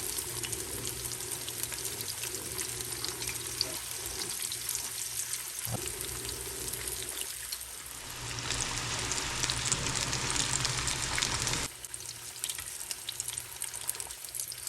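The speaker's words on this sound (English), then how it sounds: "And they're gonna fry for like 2 to 3 minutes." Fried deviled eggs sizzling in hot frying oil, a continuous crackling hiss that swells louder for a few seconds in the middle before settling, with occasional faint clinks and no talking.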